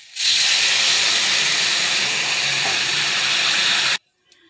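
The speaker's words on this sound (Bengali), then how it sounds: "এবার জল দিয়ে দেব।" Water is poured into a hot pan of fried vegetables for a gondho pata curry, setting off a loud, continuous rush of hissing steam that lasts about four seconds and then cuts off abruptly.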